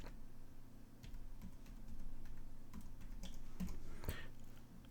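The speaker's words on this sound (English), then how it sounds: "And now we can put in a new password." Keys tapped on a computer keyboard while entering a new Ubuntu password, a quiet run of small clicks over a steady low hum of fans.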